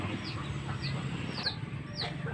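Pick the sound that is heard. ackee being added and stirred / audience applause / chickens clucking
chickens clucking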